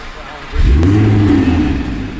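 Race car engines rumble to life and rise into a steady, loud roar as the cars pull away close by.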